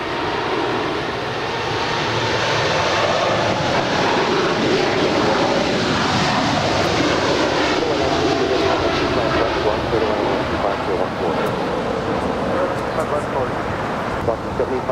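An Atlas Air Boeing 747 freighter rolls down runway 25 Left at Los Angeles International Airport with a loud, sustained jet roar throughout, and speech runs faintly beneath it.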